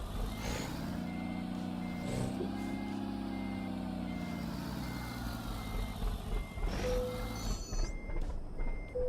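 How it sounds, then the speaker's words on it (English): Repeated electronic beeping from a vehicle alarm in American Truck Simulator, sounding over a low idling truck engine rumble at a steady rhythm, with a hiss of air brakes near the end. "Why is his car alarm going off?"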